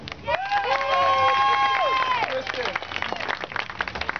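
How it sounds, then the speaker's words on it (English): An audience at an outdoor street show gives a round of applause, a near, dense clapping that swells and carries on while a loud voice shouts over it at first. "Kristen, listen for your round of applause."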